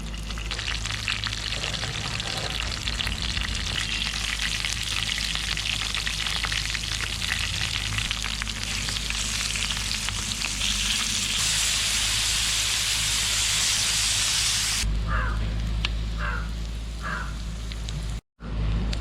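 Prawns and curry leaves frying in oil over glowing embers on a low flame, Kerala style, produce a loud, dense, continuous close-up sizzle that eases into softer popping near the end, with no talking.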